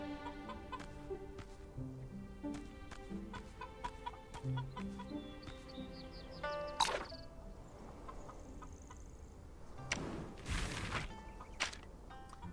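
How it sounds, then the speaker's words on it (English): Two free-range chickens in a video game cluck in short, soft repeated notes over quiet game background sounds, with a brief sharp clatter partway through. "Look, Shen, there are 2 free-range chickens here."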